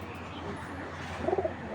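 Pigeons coo softly in a brief cluster of low notes near the end as a male Giribaz pigeon is released, faint against steady background noise.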